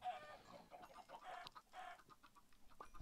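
Chickens in Minecraft give short, quiet clucks in a loose, irregular series, several soft bursts close together over a low background.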